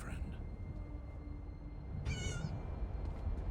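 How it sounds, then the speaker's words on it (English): A cat meows in the Elder Scrolls Online game world, one short harmonic call standing out over a steady low background hum. "Kitty"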